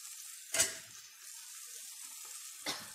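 Tomatoes cook in a pan with a faint sizzle. Two brief louder spits of frying break through at about half a second and near the end.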